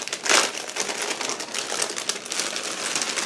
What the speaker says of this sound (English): Just give me a second to open the plastic bag.